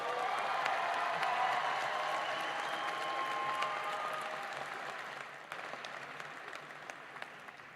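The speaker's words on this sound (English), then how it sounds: "Let's give them another round of applause." A large commencement crowd applauds undergraduate graduates at a university spring ceremony, a broad sustained wash of clapping in a big hall that gradually fades and thins toward the end.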